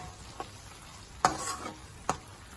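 A few spoon scrapes and stirs of tamarind curry in a pan, three distinct clatters over a faint sizzle, close by.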